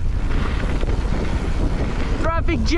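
Strong wind buffeting the microphone while mountain biking at a bike park, a loud continuous low rumbling roar, with a short voice sound near the end.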